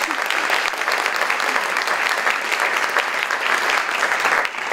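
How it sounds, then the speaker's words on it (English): A full audience claps steadily at Karamu House, a Black theater in Cleveland, during a Cleveland Book Week evening: dense, continuous applause with a bright, hissing texture that holds level throughout, with no talk over it. "yes, clap for that."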